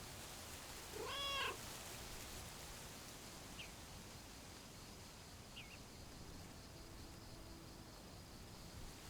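A cat in the video game Lake gives a single short meow early on, heard over a steady hiss of background noise. A couple of faint chirps follow, and nobody speaks.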